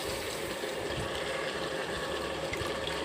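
Water pours steadily into a cooking pot over soaked rice and chicken for dum biryani, a continuous close splashing rush with no break.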